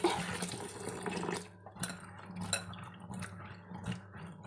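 Water swishing and splashing in a bowl as green chillies are rinsed by hand, a steady close wet churning with small drips and sloshes throughout.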